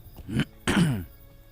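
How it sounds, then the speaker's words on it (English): Two short, close coughs in quick succession, the second heavier and raspier, followed by quiet. "Bad cough today."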